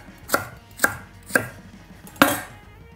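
Four crisp knife chops cut a leek into coarse pieces on a cutting board at a steady, unhurried pace, close and clear with no talking.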